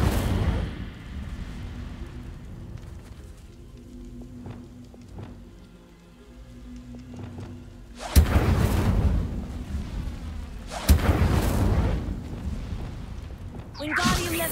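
Incendio fire spell blasts in Hogwarts Legacy, heard as two sudden loud whooshing bursts that roar and fade over several seconds, over steady game ambience with brief speech earlier.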